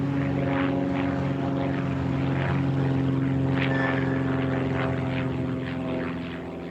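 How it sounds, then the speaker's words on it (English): A Hawker Sea Fury fighter plane's propeller engine drones steadily, a loud, continuous piston-engine hum with strong low tones that fades slightly at the end, no voices over it. "One difference about this workshop has been the presence of 3 fighter planes, which Guido bought to restore"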